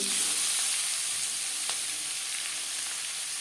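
Chopped radish sizzles in hot oil in which nigella seeds and green chillies have been fried, in a home kitchen. A loud, close, hissing sizzle holds steady throughout the short stretch with no talk.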